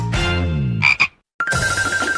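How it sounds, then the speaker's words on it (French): A cartoonish frog in a colour mystery-box challenge croaks loudly in a few close, harmonic bursts, with a short silence before the croaking resumes. "Oh non! Pas la grenouille! J'ai peur d'elle."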